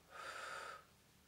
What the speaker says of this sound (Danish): Puster halvt ud.